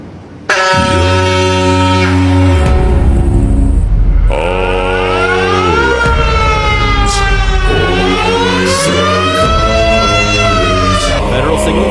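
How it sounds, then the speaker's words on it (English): Diaphone siren sounding loudly and continuously, its deep horn-like tone rising and shifting pitch in slow sweeps and wails, heard on its own for the full stretch. "The first one is diaphone siren."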